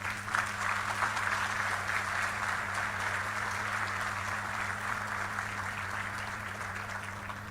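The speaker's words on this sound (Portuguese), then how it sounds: "eu gostaria de uma grande salva de palmas" Audience applause at an outdoor ceremony honoring families who sold their land, sustained even clapping from a large crowd over a steady low hum, lasting throughout.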